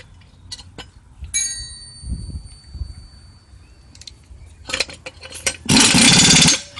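Nut being tightened on a new motor mount of a 2006 Chrysler Pacifica, with short metallic clicks and ratcheting, then a loud, sustained burst of rattling tool noise near the end, close and without talk.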